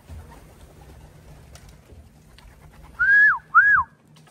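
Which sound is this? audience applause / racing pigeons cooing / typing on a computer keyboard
racing pigeons cooing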